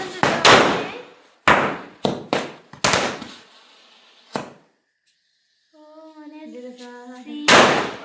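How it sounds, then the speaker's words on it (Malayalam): Firecrackers burst during New Year celebrations: about seven sharp, loud, close bangs in uneven succession, each ringing out briefly, with a short quiet gap, a stretch of excited voices, then a final loud blast. "നമ്മൾ മാലപ്പടക്കം പൊട്ടിക്കാൻ പോണിക്കുന്നത് ഭയങ്കര പേടിയാട്ടോ"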